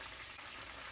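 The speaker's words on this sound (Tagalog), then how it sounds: "nagprito natin yung ating manok" Chicken pieces fry in a hot pan with a steady, soft hiss of oil, quiet and continuous.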